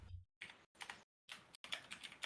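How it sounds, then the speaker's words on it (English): Bursts of keyboard typing, quick clicking keystrokes in short runs separated by brief pauses, close and fairly quiet, heard during a podcast recording. "I hear you typing"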